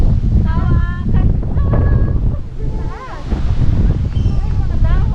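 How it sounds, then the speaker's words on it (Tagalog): Strong gusts at Sampaloc Lake buffet the microphone with a heavy, continuous low rumble, while people talk excitedly over it throughout. "papakita ko sa inyo kung gaano nakalakas yung hangin dito"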